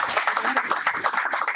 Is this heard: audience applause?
yes